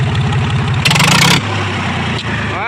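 A 45 HP tractor engine with its silencer removed idles close by with a loud, steady low chug, briefly interrupted by a harsh noisy burst before settling back to the idle.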